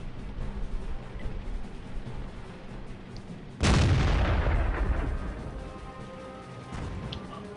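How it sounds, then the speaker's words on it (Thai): A single heavy tank cannon shot from the World of Tanks game booms loudly partway through, then rumbles and fades over several seconds against a steady background of battle noise, with no talk. "หนึ่งลูกสองลูกสามลูกโผล่เข้ามายิงมาแล้วถอยมาครับ"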